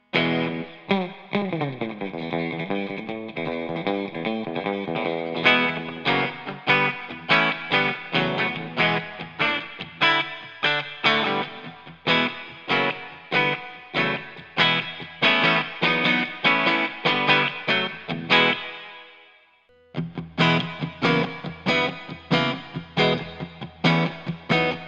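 A Fender Jazzmaster or Jaguar electric guitar on the bridge pickup plays through distortion and chorus effects, a sustained chord opening into rhythmic strummed chords with one brief pause, loud and alone.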